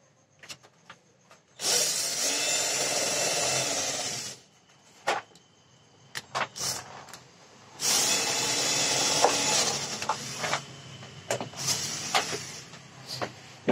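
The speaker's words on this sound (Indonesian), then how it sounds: "Oke, di sini saya sudah siap dengan sebuah bor. Maka saya akan melakukan pengeboran." An electric drill whines in two long bursts, each a few seconds, grinding through an aluminium plate, separated by clicks and short handling noises.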